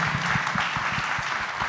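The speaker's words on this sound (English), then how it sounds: "So give them a round of applause as well for being here." An audience at a downtown policy session applauds state representatives with brief, dense clapping from many hands.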